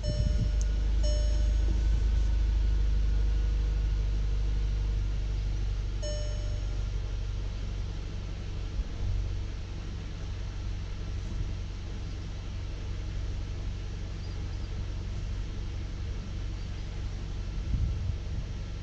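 A VW MK7 GTI with a flex fuel kit installed idles after start-up, a steady low engine rumble with a faint whine running throughout, fairly close and without talk.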